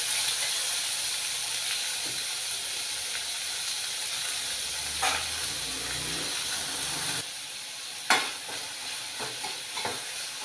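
Three chopped onions frying until brown, a continuous hissing sizzle with occasional stirring scrapes and clanks of a utensil in the pan.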